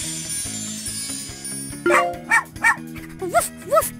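A small dog yips and barks in a few quick, high bursts near the end, over a soft electronic backdrop, a puppy in the children's video game Super Why Woofsters Puppy Day Care.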